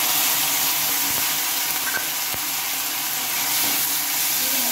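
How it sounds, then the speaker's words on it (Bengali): Onions and ground spice paste fry in hot oil, a steady, loud, close sizzling hiss that runs throughout, broken by a few faint clicks of stirring. "পেঁয়াজগুলো আমি একটু ভালোভাবে ভেজে নিয়েছি, এর মধ্যে আমি বাটা মশলা দিয়ে দেবো।"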